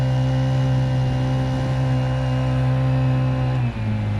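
A 50cc four-stroke Honda outboard on a small Crescent K boat runs at a steady, loud drone while circling in a donut, with a brief dip in pitch near the end and no voices.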